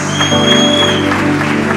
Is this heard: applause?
yes